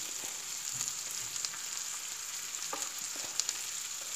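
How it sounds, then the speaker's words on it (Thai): Shrimp stir-fried with holy basil and yellow mushrooms sizzles steadily in a hot pan, a continuous frying hiss broken by a few faint clinks and scrapes of stirring. "ผัดกะเพรากุ้งค่ะพี่น้องผัดกะเพรากุ้งใส่"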